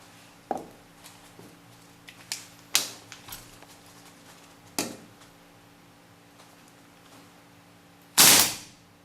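Scattered gas blowback shots from an RA Tech KWA AK airsoft rifle, a few sharp pops separated by quiet gaps, with faint mechanical ticks in between and a louder, longer burst of gas near the end.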